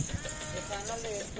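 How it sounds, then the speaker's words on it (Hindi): A goat bleating amid a busy livestock market, a wavering cry heard under constant crowd chatter and background noise. "ये बकरा चेक करो।"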